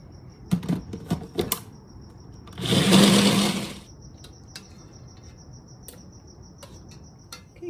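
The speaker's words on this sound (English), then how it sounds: "I'm going to add 2 cloves of garlic and get this blended right now." A blender whirs through chiles, garlic and cilantro in one loud burst of about a second, amid sparse kitchen clicks and taps, with no talking.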